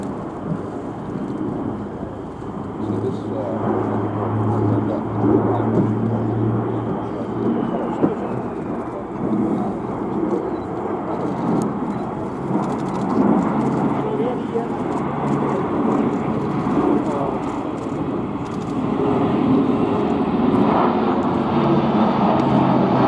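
Airbus A400M military transport in Royal Air Force service, flying a display at RIAT 2016, gives a broad, steady turboprop rumble and roar that fills the whole stretch. It sounds fairly loud and continuous, swelling slightly toward the end, with a narrator talking over it.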